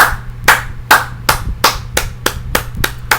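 Hands clapping in a steady series of about ten sharp, close claps, loud and alone over a low background hum.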